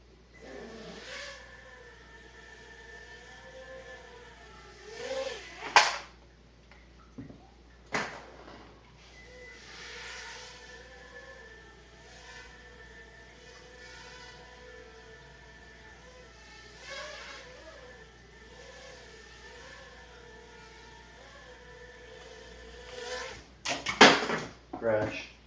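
Mini four-axis RC quadcopter, a Fire Fly model, on a test flight, its small motors giving a steady high buzz that rises and falls in pitch, with a couple of sharp knocks and someone talking over it.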